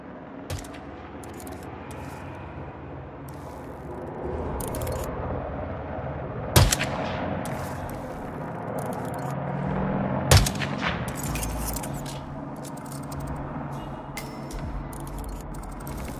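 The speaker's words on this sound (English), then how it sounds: "That was quite the explosion, 47." Explosions and sharp gunfire sound in the Hitman 3 video game, with two loud, sudden booming cracks standing out over a rumbling, crackling background of intermittent shots.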